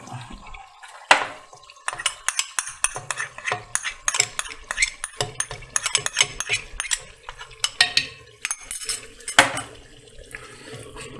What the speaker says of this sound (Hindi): अब हम इसके अंदर 2 चम्मच दही के ऐड करेंगे।